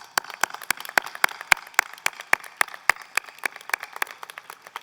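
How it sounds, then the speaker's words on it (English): Sparse, scattered clapping from a small audience at a 2021 business school diploma ceremony, individual sharp claps in an uneven rhythm rather than full applause. "I want to give you a round of applause"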